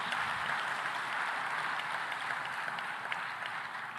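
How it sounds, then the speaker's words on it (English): A conference audience at an agriculture and food systems forum in Tanzania gives a round of applause. The clapping is faint and distant, an even, continuous wash of many hands lasting several seconds. "So a warm round of applause to Tanzania for their fantastic hospitality."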